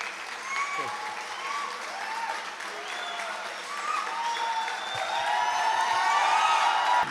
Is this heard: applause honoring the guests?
yes